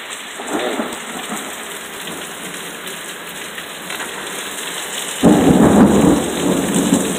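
Thunder rumbles through a heavy storm with steady rain, a low roll early on and a louder, closer crash near the end, with no talking.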